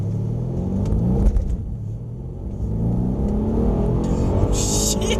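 A Mercedes-Benz in Sport Plus mode accelerates hard, its engine rumbling steadily with rising harmonic tones, while a brief scuffle breaks in near the middle and road noise hisses throughout.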